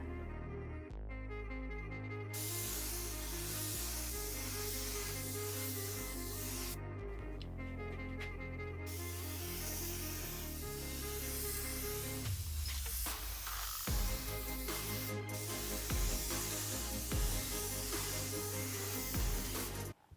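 A spray gun lays a primer coat on a 1957 Chevy during rust repair, a long, close airy hiss that cuts off briefly a few times over a steady tonal hum in the background.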